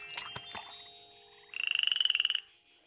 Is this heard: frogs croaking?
yes